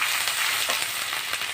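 Pānch phoron, dry red chillies, bay leaf and ginger paste sizzle in hot oil for a Bengali lau motor dish, a steady close frying crackle with soft stirring scrapes and no talk.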